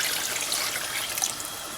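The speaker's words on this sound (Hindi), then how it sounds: "पानी मैं ऐड कर रही हूँ तकरीबन 4 से 5 कप" Water pours steadily into a cooking pot for meat and potato stew, a continuous close splashing stream with no voices.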